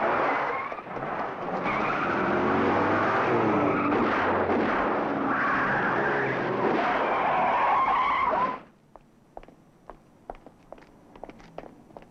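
Car from a 1974 television series screeching away with skidding tires, a loud close rush of squealing and engine noise for about eight seconds, then it cuts off to quiet with scattered footsteps and small knocks.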